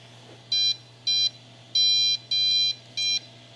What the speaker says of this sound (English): This printer makes a lot of beeping noises when it's doing its homing procedure